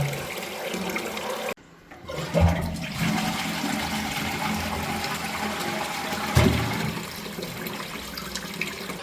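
A toilet cistern refills with water after a flush, a steady rushing hiss of inflowing water following a brief abrupt cutoff, close and continuous, with a couple of clunks as the valve works.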